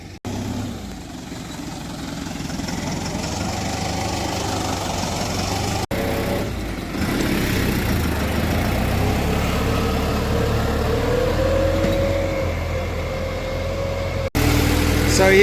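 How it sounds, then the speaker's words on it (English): A tractor engine runs steadily while ripping soil for a food forest, a continuous mid-to-low rumble holding nearly the full length with a brief dip near six seconds and a short break before the end. "But we're getting the tractor to rip this whole area"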